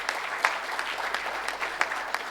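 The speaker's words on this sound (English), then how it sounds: "So there is a big round of applause for this first." Audience applause fills a sustainability award ceremony held in Pune by the Shroff Foundation: a steady, dense round of clapping with a few sharper individual claps standing out, sustained throughout.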